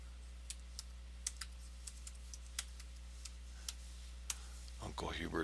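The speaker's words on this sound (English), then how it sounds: "So I'm going to go ahead and enter a password here." A password is typed on a computer keyboard in a dozen or so separate key clicks, sparse and fairly close, before a voice starts speaking at the end.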